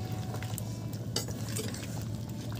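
Pork and gourd curry being stirred in a village kitchen pot, with a steady low simmering bubble under soft scraping and clinks of a spoon against the pan, close and continuous with no talk.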